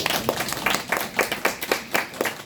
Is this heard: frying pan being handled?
no